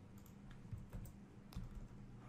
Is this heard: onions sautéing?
no